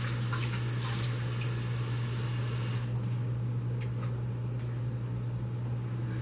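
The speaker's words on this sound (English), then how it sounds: "Now, I do want to add a little bit more water to this." Hot water pours steadily into oxtail gravy in a crockpot, a continuous close splashing hiss that thins to a softer trickle partway through, over a constant low hum.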